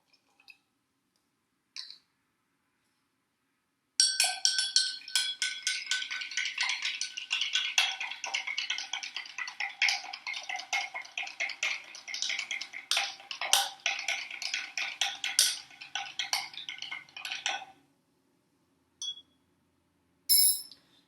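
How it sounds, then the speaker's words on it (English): Baking soda stirred into a glass of water with a spoon for a kitchen science experiment, a steady stretch of rapid light clinks and scraping against the glass lasting about fourteen seconds, close and clear, with brief taps before and after. "we're going to repeat with our baking soda and mix our baking soda into our next glass of water."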